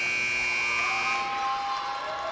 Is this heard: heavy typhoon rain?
no